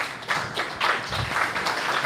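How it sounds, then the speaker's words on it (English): An audience applauds after a demo at an n8n hackathon. Scattered clapping is heard at moderate volume throughout the short stretch. "but big round of applause"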